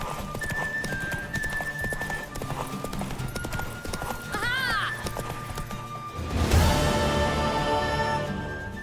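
Horse hoofbeats clip-clop steadily through a race in The Witcher 3, with a mare whinnying partway through and a louder burst of galloping and movement near the end. No speech is heard.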